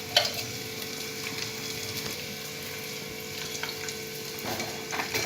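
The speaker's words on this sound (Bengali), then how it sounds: "আমি আরেকটু তেল দিচ্ছি, দিয়ে ম্যারিনেট করা মাটনটা আমি ছেড়ে দেব।" Marinated mutton sizzles and fries in hot oil in a pan while cooking Bengali mutton kosha, a steady crackling hiss running throughout with slightly louder bursts at the start and near the end.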